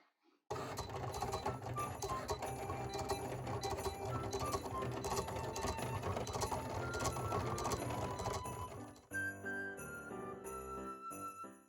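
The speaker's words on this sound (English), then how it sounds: "I'm going to send this to my Explorer 3 and get cutting it so I can put it on my cookie jar." Cricut Explore 3 cutting machine cutting a graphic for a cookie jar, a steady whirring motor with rapid tapping and carriage movement, quiet and alone, then shifting to a lighter, intermittent mechanical sound near the end.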